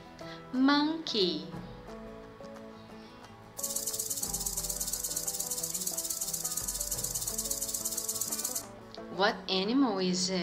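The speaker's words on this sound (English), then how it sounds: "Snake. Snake." A snake's dry, sustained rattle buzzes steadily for about five seconds as part of a children's animal sounds game, with a child's and an adult's voices speaking before and after it.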